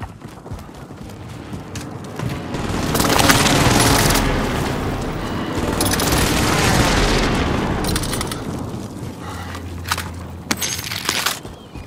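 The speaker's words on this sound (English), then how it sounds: "Enemy precision airstrike." Enemy precision airstrike explosions in Call of Duty on Rebirth Island, a series of deep rolling booms and crumbling blasts swelling and fading over several seconds, fairly loud and without talk.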